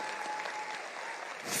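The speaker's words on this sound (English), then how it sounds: "can we stand up and give His Excellency a round of a hearty, warm clap?" A town hall audience in Kisumu City applauding President Ruto, a brief burst of clapping that holds steady throughout and swells slightly at the end.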